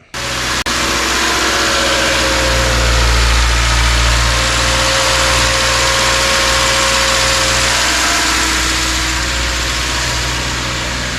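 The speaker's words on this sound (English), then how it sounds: "It's high idling right now till it warms up." A 2013 Subaru Legacy engine running at a steady high idle after an oil-leak and brake repair, a continuous low hum with a constant whine, close and loud throughout with no talk.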